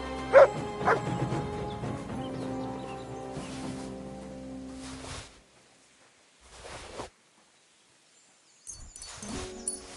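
Dog barking in the video game Kingdom Come: Deliverance II, a few sharp yips and bow-wows early on over game music and rustling, then fading to quieter stretches and brief bursts near the end.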